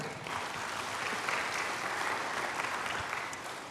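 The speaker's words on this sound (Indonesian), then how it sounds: "Berikan tepuk tangan" A congregation applauding during a church sermon, a steady, even wash of many hands clapping at some distance, fairly soft and continuous for the whole stretch without any voices over it.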